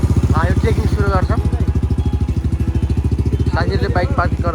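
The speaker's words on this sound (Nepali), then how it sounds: "साथीहरूले बाइक पार्किङ गर्दैछन्।" A nearby motorcycle engine idles with a loud, steady, rapid thumping pulse as bikes are parked at the start of a mountain trek, while people talk briefly over it at the beginning and end.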